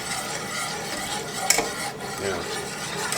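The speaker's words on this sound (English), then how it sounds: "I like to just make sure it stirs, because once it does start to thicken, you don't want any of that paste to burn at the bottom of the pan" Roux for cheese sauce being stirred in a nonstick pan, a continuous close scraping swirl over a soft sizzle, with one brief clink of the utensil against the pan.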